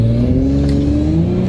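Audi B9 S4 engine fitted with a 034 Motorsport carbon fiber cold air intake, revving loud and close in a steady rising drone with strong harmonic tones, with no talk over it.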